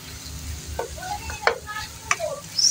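Beaten egg frying in a pan is stirred, giving a steady low sizzle with scattered scrapes and clinks of the utensil against the pan, close and fairly quiet, with no talk.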